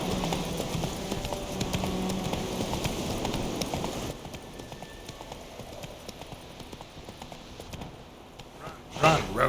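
Game horse galloping in The Witcher 3, rapid rhythmic hoofbeats over background game sound, fading toward the end before a louder burst.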